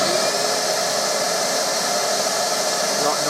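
Nilfisk Aero 26-21 workshop vacuum running steadily in a workshop, a loud, continuous broadband whoosh with no variation or pauses, close to the listener.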